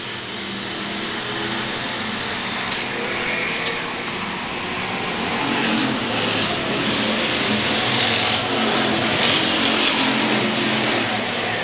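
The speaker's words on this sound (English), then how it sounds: "it's a battle for the seventh spot between Caleb Bean and the 44 and that 37 squirt gun Joey Frazier" Slingshot race cars race at Star Speedway in a feature event, a continuous engine roar that swells slightly as cars pass, no talk.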